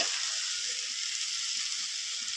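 Food fries in a pan on a home stove, giving a steady, close hiss and sizzle that runs evenly throughout with no voices.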